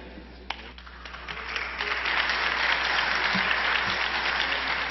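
Senators of the PRI and PAN applaud in a legislative chamber, a dense, sustained round of clapping that builds after a few scattered claps and holds steady and loud to the end.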